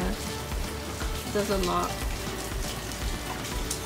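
Rain falling on a front porch entrance in California, a steady close hiss of drops on surfaces, with a person talking over it briefly.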